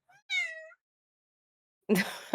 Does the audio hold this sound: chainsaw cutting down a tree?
no